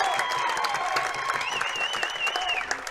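Pickleball crowd at the USA Pickleball Nationals men's singles applauding and cheering, a dense steady wash of clapping with scattered whistles throughout.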